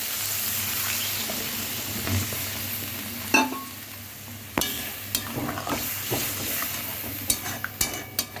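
Frying spices with turmeric and salt sizzle in a pan for a hilsa curry, then a sharp burst of hissing follows as water is added, with clinks and scrapes of a utensil against the pan.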